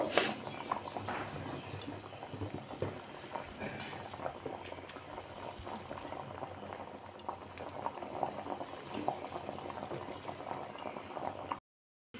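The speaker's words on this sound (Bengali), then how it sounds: "একটু ফুটিয়ে নিয়ে বড়াগুলো দেব" Vegetarian banana flower fritter curry (mochar borar dalna) bubbling steadily in a pot, a continuous soft boiling patter and gurgle, close and even throughout before stopping abruptly at the end.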